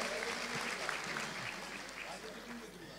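An audience at a high school graduation ceremony applauds in a continuous crowd wash, fairly distant and soft, with voices mixed underneath.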